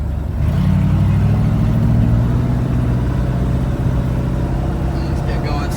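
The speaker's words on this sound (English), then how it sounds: "right now the choke has to be pulled out for it to idle because the carburetor that's on it is trash" Old project truck engine idling with the choke pulled out because of a worn-out carburetor, a loud, steady low rumble close by with a slight rising drone early on, continuous and unbroken, with faint clicks near the end.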